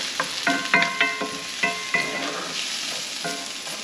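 Butter melts in a pan with a steady crackling sizzle, punctuated by several sharp clinks of a utensil against the cookware in an irregular rhythm, close and moderately quiet.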